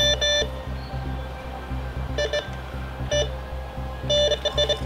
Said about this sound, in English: Something's beeping, Matt.